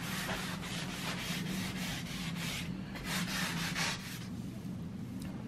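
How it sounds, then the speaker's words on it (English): Steady rubbing strokes of sanding on a painted wooden baby crib, continuous and close, with repeated back-and-forth scraping texture and no talk. "now sanding it. Okay. Smoothing it out."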